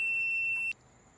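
A steady high-pitched electronic beep tone from a non-contact voltage tester held near a security light's electrical connector, holding for most of a second before cutting off abruptly.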